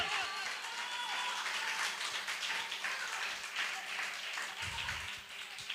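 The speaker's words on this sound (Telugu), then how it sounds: "చప్పట్లు కొట్టి దేవుని స్తుతించు గట్టిగా" A church congregation at a fasting-festival morning prayer service claps together in a sustained run of quick, quiet hand claps that continues without a break.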